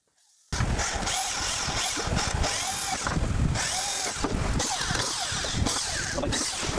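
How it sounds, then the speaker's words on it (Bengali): A power drill bores the four marked holes for a homemade IPS inverter build, starting suddenly after a brief silence and running loud and close, its whine rising and dipping under load until the end. "মার্কিং করে নেওয়ার পর আপনাদের এটা ড্রিল করতে হবে"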